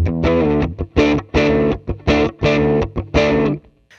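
Electric guitar through a Fender Mustang GTX100 amp plays a string of punchy distorted chords in a clipped, rhythmic pattern, loud and close, each stab ringing briefly before cutting off.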